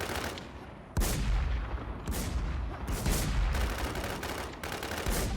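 Rapid gunfire from cannons in an arcade fish-shooting game, with loud, dense bursts of shots that keep going through the whole stretch and a sharp jump in volume about a second in.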